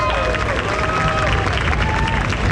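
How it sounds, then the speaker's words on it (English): A large crowd at the IAAPA Expo 2022 trade show applauds during a SeaWorld San Diego ride reveal, with steady dense clapping mixed with a few cheers and a faint murmur of voices. "I think that deserves a round of applause."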